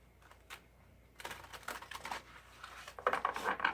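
Tarot cards being shuffled by hand, close and soft: faint flicks at first, then a denser riffling patter of card edges building louder toward the end, with no talk.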